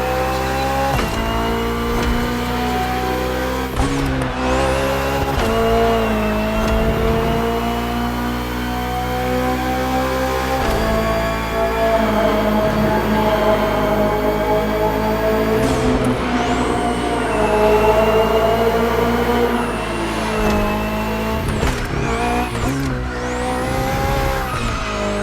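A 2023 BMW M Hybrid V8 endurance race car in The Crew Motorfest roars steadily at close range, its engine pitch rising and falling through gear changes with brief tire squeals, continuous and loud without talk.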